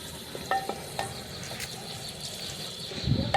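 Chopped onion frying in a pan while mutton and potato curry is being made, giving a steady, moderately loud sizzle with a few stirring scrapes and clinks mixed in.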